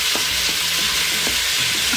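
A pound of ground beef sizzling hot in an Instant Pot on sauté, a dense, loud, continuous crackle with faint stirring scrapes and no voices.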